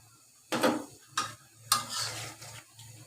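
A fried egg is stirred into a pot of bhuna khichuri, with three bursts of scraping and clatter from the spoon against the pot over a low, steady cooking hiss.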